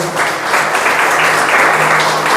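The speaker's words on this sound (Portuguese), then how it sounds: "Aplauda ao Senhor." A church congregation applauding during a worship service, a steady dense wash of clapping that holds evenly throughout at moderate loudness.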